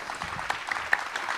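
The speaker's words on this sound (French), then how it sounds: "on peut applaudir Monsieur Moed Altrad" Sparse, faint clapping rises from a gala dinner audience at the Club Molière 2022 event for guest Mohed Altrad, with a few sharper individual claps standing out in a brief, quiet burst.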